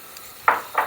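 A chunk of butter drops into a hot frying pan before chicken and vegetables are fried, giving two short bursts of hissing sizzle with a light clatter, close and with no talk.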